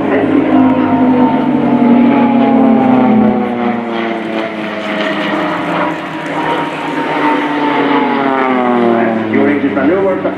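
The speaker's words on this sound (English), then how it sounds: "turboprop training aircraft is not only a fast but also a highly maneuvered aircraft" A Swiss Air Force Pilatus PC-7 turboprop trainer flies past at a RIAT 2018 air display. Its steady, loud propeller drone rises and falls, and a commentator talks over it throughout.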